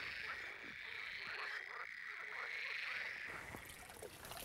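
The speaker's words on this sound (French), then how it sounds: "Et c'est comme ça que les grenouilles chantent." Frogs in the Sidobre area of France call in a dense chorus, a continuous shrill trilling layered with scattered lower croaks, steady throughout and moderately close, with no voices over it.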